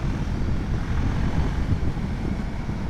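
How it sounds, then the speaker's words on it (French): A Husqvarna Vitpilen 401 motorcycle at riding speed gives a continuous low exhaust drone mixed with heavy wind rush, steady and close, with no talking. "Avec une trépidation d'échappement qui est pas vilaine"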